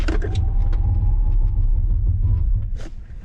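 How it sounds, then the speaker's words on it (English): A Tesla Model Y brakes hard from 60 mph to a stop, heard from inside the cabin as a loud low road rumble with faint mechanical clicks and a pulsing whir, fading out as the car halts. "We're going to go 60 to 0 in 3, 2, 1."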